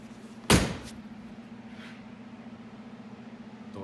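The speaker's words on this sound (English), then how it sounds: "Doors shut good." An upper door on a Polaris General XP side-by-side is shut once, giving a single solid, close thud early on. A low, steady hum continues afterward.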